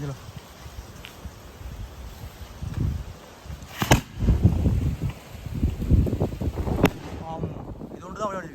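Wind blows outdoors, buffeting the microphone with rough, uneven rumbling gusts that swell and fade throughout, while voices talk over it.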